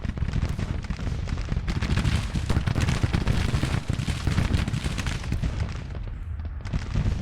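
Skirmishers firing muskets in a Civil War strategy game: dense, continuous crackling volleys of gunfire, with shots overlapping into a rolling rattle over a low rumble, easing briefly near the end.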